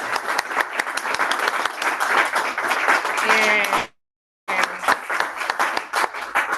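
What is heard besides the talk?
audience clapping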